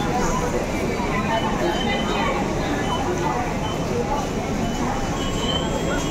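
A Kolkata metro station with a constant loud rumble and roar of a train moving through, a dense wash of noise with people's voices mixed in.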